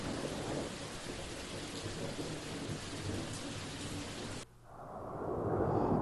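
Heavy rain pours steadily as thunder rumbles through a rainstorm, loud and continuous, with an abrupt shift near the end into a brighter hiss of rainfall.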